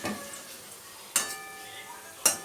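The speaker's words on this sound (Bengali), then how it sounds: "আস্তে আস্তে ভেজে নিচ্ছে" Banana fritters frying in a pan, a gentle background sizzle broken by two sharp stirring clinks about a second apart.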